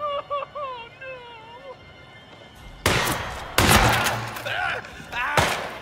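Gunfire in the video game Hitman 3: after a stretch of electronic tones, bursts of loud shots and impacts arrive in quick clusters, close and harsh, with several heavy cracks in a row and some voice activity mixed in.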